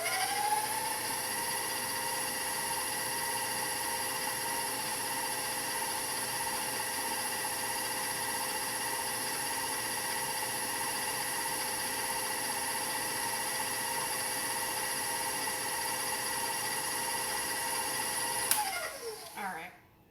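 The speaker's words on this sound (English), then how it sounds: "I need to whip this on a higher speed for a minute so more air gets incorporated." A stand mixer whips holiday baking batter on high speed, a loud steady whine with even harmonic drone that runs unbroken for about eighteen seconds before shutting off with a brief clatter.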